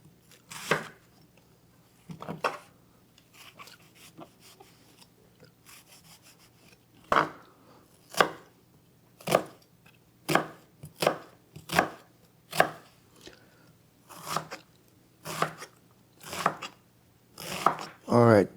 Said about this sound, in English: start chopping our onion